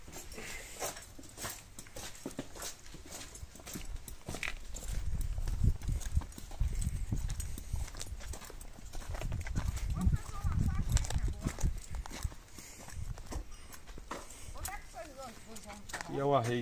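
A Quarter Horse mare walking, hooves clip-clopping in an uneven rhythm at close range, with people talking over the steps throughout.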